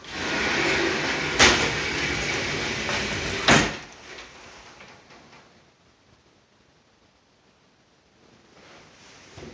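A three-panel sliding closet door in a house rumbles along its track and ends in two firm knocks a couple of seconds apart, followed by a quiet room.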